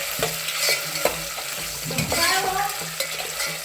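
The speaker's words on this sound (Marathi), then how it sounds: "गाजर आहे कट केलेले ते त्यामध्ये टाकले।" Cut carrots frying in a pan for masala rice, with a soft steady sizzle under repeated scraping and knocking strokes of a spoon stirring them, close and fairly quiet.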